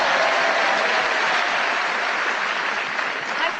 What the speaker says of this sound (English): Extra loud laughter and applause was for Sheila